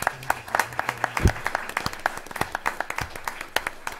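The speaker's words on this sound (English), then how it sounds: "So, if you'll give him a round of applause again." A small group at a school board meeting claps, the individual hand claps distinct and uneven, forming a light round of applause at close range.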